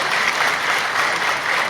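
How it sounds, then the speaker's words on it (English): A large audience at the Bangladesh Investment Summit breaks into applause, a dense, continuous roar of clapping from many hands, loud and steady, with no talk over it. "Can we have another big round of applause?"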